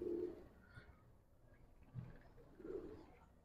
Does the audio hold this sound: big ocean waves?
no